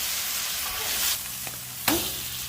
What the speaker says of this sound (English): I want to go ahead and work some of this juice into this steak right here.